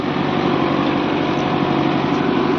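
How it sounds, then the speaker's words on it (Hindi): A village tractor working a farm field, preparing the soil for the season: a steady, continuous engine drone with a throaty low rumble and a mid-range hum, even in level throughout and heard alone. "वहाँ गांव का ट्रैक्टर है"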